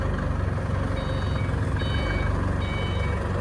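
A truck engine idles steadily with a low rumble while a reversing alarm beeps in three short bursts, loud and close, as tiles are loaded onto the truck.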